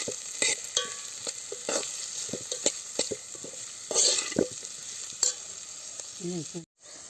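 A spoon stirs turmeric, onion, curry leaves and garlic frying in a pan, with scraping strokes at irregular intervals over a steady background sizzle, close and fairly loud, with no talking.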